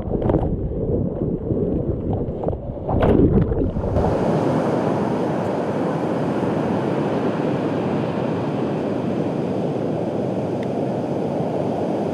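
Wind buffets a microphone over a steady roar of North Sea surf on Sylt in winter, with rough gusts at first before the wash of waves evens out.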